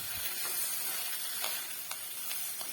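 Potato fry with curry leaves sizzles steadily in a pan on low flame while being stirred, a dense close hiss with a few faint scrapes from the spoon.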